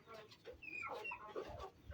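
Chickens on an African village farm cluck and murmur faintly at a distance in a soft, irregular chatter, with some low background noise.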